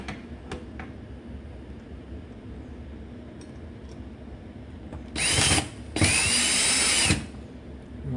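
Power drill backing out two screws from a hugger ceiling fan mount, two short whirring bursts close by after a quiet stretch with light handling clicks.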